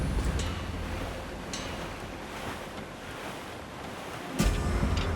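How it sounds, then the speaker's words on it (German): A sailing ship at sea in Assassin's Creed IV: Black Flag, with wind and surf washing in a steady, loud rush and a few sharper splashes. "Ah, ich spüre den Wind in den Haaren."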